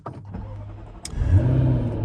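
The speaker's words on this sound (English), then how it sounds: "let's switch on and start up the supercharged V8 using the Ignis push button there" A Jaguar F-Type V8 R's supercharged V8 cranks briefly after a push-button start, then fires up into a deep, steady rumble that grows and settles into a loud idle.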